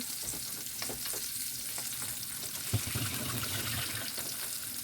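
Large-cut onions, black pepper and fenugreek seeds fry in a pot, giving a steady, close sizzle with faint stirring clinks and one brief knock, and no talk.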